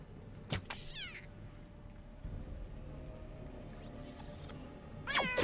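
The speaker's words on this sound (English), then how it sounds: "Except this cat shoots freaking lasers!" A cat in the video game Underrail meows several times, with sharp short cries near the start and a louder yowl at the end, over a quiet background hum.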